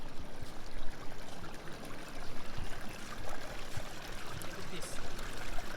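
A stream of water flows steadily across a beach, giving a continuous broadband rush and trickle that sits close and fairly loud, with someone talking briefly over it.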